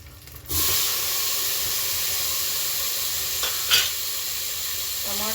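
Tomatoes hit hot oil in a pan with lentils and turmeric nearby, bursting into a loud, steady sizzle that holds on close up, with a brief stir partway through.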